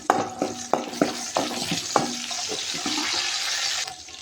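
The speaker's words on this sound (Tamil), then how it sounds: "கடுகு பொரிஞ்சதும் வெங்காயம், அடுத்து கருவேப்பிலை சேர்த்துடலாம்." Mustard seeds splutter in hot oil with sharp popping crackles, then onion and curry leaves hit the pan and settle into a steady, fairly loud sizzling fry that continues evenly to the end.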